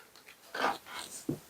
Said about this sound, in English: And you will probably start to bark.